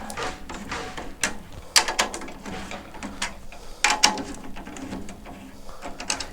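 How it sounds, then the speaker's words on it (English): Drum tuning screws are turned counterclockwise on a kit, giving a run of close, dry ratcheting clicks and small metallic ticks in uneven bursts. "if I turn these screws all the way counterclockwise"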